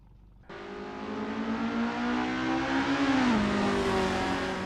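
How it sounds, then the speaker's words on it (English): Racing cars in a qualifying session at Vallelunga rev their engines, starting abruptly after a brief quiet moment and holding a loud, steady, harmonic engine roar that rises in pitch and then dips near the end, with no voices. "the drivers rev up their engines and put their skills to the test in the qualifying session"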